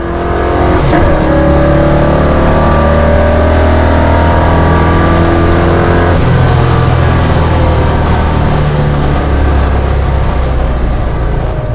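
A 1971 Chevelle SS454 pulls hard in second gear during a drag race, its big V8 roaring loud and steady at close range as revs climb without a break for the whole stretch.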